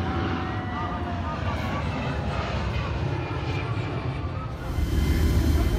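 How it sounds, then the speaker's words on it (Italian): A fixed-wing airplane carrying evacuees out of Kabul roars steadily and loudly from inside, a continuous broadband engine drone that swells slightly toward the end. "Dai suoi video percepiamo il rumore dell'aereo che li porta via da Kabul"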